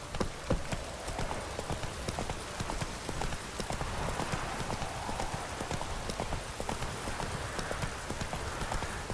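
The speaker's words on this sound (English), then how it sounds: "Run, Roach." Hooves of a horse galloping in The Witcher 3 video game, a fast, steady clip-clop rhythm running without pause, close and loud over a soft, rain-like hiss.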